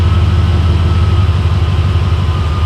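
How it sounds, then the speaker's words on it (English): A 2008 Ford F-150 engine idles steadily with a deep, low rumble that holds constant and close, with no voices over it. "I don't know if you notice it, but the RPMs kick back up."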